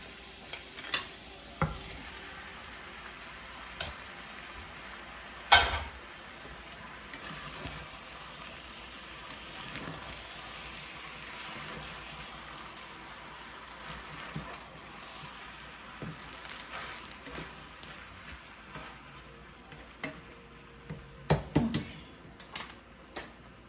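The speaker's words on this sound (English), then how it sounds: "now I'm gonna add my okra" Okra stirred into a pot for Jamaican-style stew, a soft steady sizzle with scattered scraping and clinking knocks of a spoon against the pot.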